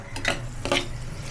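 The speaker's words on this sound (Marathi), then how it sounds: "मिक्सअप चालू आहे कांद्याचं" A utensil scrapes and stirs onions in a pan in two quick, close strokes over a low steady background, with no talking.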